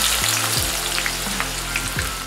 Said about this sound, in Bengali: তেলটা খুব গরম হলে অর্ধেক কুচনো পেঁয়াজ দিয়ে দেব।